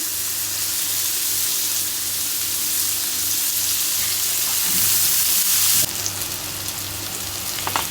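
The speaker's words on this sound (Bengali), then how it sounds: "কুমড়োটাকে কিছুক্ষণ ভেজে পেঁয়াজ দিয়ে উল্টিয়ে পাল্টিয়ে ভেজে নিতে হবে" Pumpkin and onion fry in hot oil in a pan, giving a steady loud sizzle like rain. Around the sixth second it briefly dips and then shifts as the pieces are turned, and nobody speaks.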